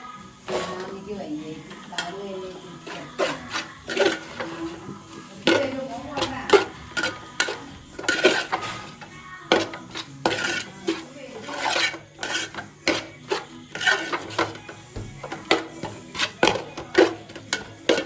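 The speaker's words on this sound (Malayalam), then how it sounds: "മസാലയൊക്കെ നല്ലോണം ഒന്ന് ആ മസാലേൻ്റെ ആ ഒരു പച്ചപ്പ് മാറാൻ വേണ്ടിയിട്ട് നല്ലോണം ഒന്ന് ഇളക്കി" Chili powder masala is stirred in a cooking pan for chicken kappa biryani, with repeated close scraping and clattering strokes of a spoon against metal in an uneven rhythm, and a voice talking over them.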